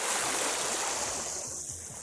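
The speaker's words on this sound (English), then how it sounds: "just come down to the river, or stream" A stream on Dartmoor rushes steadily in wet, windy winter weather, a close, loud broadband wash of flowing water with no voices over it.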